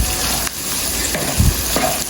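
Hotdog and chicken strips stirred in a hot frying pan, a steady sizzle under scraping stirs from a utensil, close and fairly loud, with no talking.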